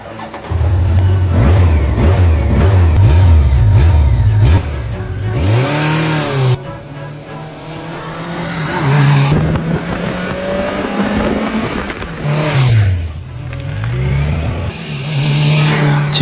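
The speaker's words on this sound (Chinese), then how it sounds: "车也装完了，可以去试车了。" A restored Suzuki GSX 1300R motorcycle, left unused for about ten years, revs hard on a test ride, its engine note climbing and dropping through repeated gear changes, loud and close.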